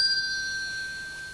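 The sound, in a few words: bells ringing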